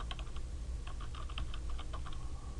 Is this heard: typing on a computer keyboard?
yes